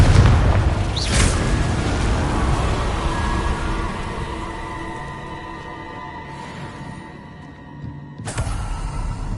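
Fire spell explosions in the video game Hogwarts Legacy: a booming blast with a sharp burst near the start, a rumbling tail that fades, then another sudden burst near the end.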